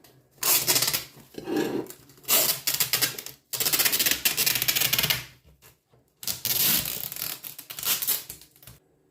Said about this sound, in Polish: Taśmą tutaj oklejam spód bardzo mocno.